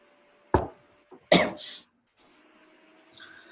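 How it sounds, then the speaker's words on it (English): Two sharp coughs, the second louder and followed by a short breathy rasp, in an otherwise quiet room. "I cough."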